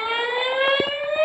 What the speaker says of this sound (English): These 15 sirens, all at low-lying areas, would warn the public of an imminent threat.